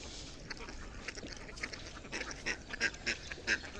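A flock of village ducks quacks in a string of short, nasal calls that come faster and louder toward the end, several birds overlapping against a low background hiss.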